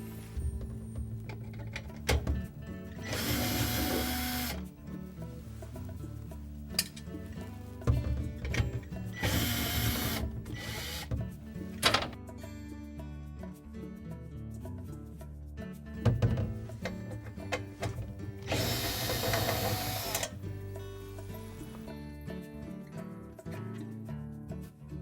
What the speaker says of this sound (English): We'll next remove 3 screws that hold that auger motor assembly in place.